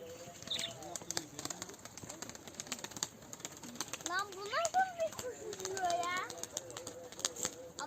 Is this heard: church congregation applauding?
no